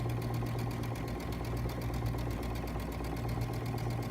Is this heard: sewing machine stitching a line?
yes